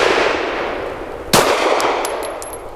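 An FMK 9C1 G2 pistol fires a single sharp shot at a steel spinner target on a range, followed by a faint metallic ring over steady background noise.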